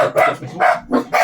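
Several dogs bark loudly and close by in a home, four sharp bursts in quick succession with a voice briefly heard.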